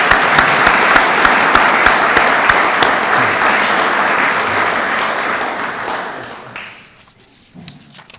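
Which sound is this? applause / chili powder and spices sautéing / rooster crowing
applause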